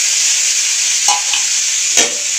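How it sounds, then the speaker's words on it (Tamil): Cut tomatoes go into a pan of frying onions, setting off a steady close sizzle with a couple of brief stirring scrapes and clatters on top, no voices. "இப்போ வந்து நாங்கள் கட் தக்காளியை போட்டுருவோம்"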